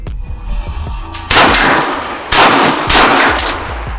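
Loud bursts of pistol fire from a Micro Draco aimed at a target, two heavy blasts after a stretch of faint quieter activity, each followed by a long echoing ring, with no talking.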